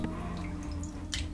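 Salt water drips steadily from a tendon being washed, small repeated drops and a brief gurgle over a low steady background hum, close by and fairly quiet.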